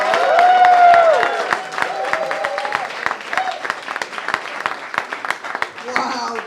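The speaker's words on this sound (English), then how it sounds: "Give it a round of applause for Joe who's coming back now for the next act" A comedy night crowd at ONE FEST claps between acts, with loud, crisp hand claps thinning into scattered individual claps over several seconds. A whoop and cheering voices ring out near the start.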